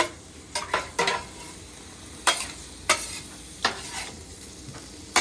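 Sausage and potatoes frying in a stainless steel pan are stirred with a utensil, giving a string of scrapes and clinks at irregular intervals over a faint steady sizzle, close up and without talk.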